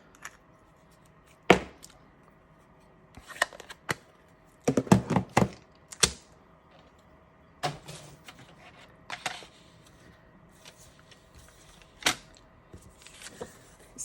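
A paper trimmer cuts pink cardstock down to 4 by 5 1/4 inches for a card project, giving several sharp, close chopping slides and clicks in short bursts, separated by quiet pauses.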